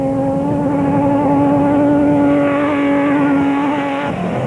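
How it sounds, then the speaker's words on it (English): An old rally car engine from the Dakar Rally holds a steady, strongly tonal drone close by, then drops in pitch near the end as it eases off or passes. "Maybe an old car, but it doesn't half sound good."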